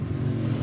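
A Yamaha NMAX scooter engine revving, with a strong low steady drone close to the microphone, brief and continuous with no voices.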